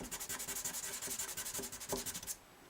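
Hand sanding of a Gibson J-40 acoustic guitar's finish with 1000 grit sandpaper makes quick, even back-and-forth rubbing strokes, about eight per second, close and soft, then stopping abruptly.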